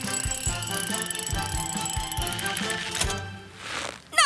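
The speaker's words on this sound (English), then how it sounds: "let's use your winch to lower me down" A winch on a cartoon vehicle lowering someone down gives steady ratcheting clicks about twice a second, followed by a brief rising mechanical whir at the end.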